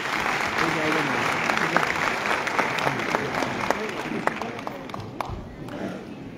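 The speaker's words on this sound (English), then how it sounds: "Please give a big round of applause." Audience applause at a school annual day function, steady dense clapping from a crowd throughout, with a few sharper individual claps standing out near the end.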